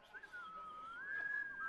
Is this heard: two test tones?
no